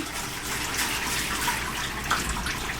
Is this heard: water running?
yes